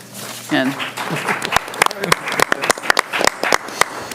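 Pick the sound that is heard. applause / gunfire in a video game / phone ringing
applause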